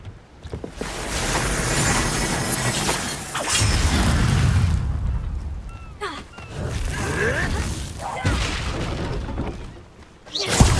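Game spell blasts from Bombarda cast in the Hogwarts Legacy video game: loud booming, shattering explosions in several bursts over a sustained rumbling, wind-like game soundscape, with no talking.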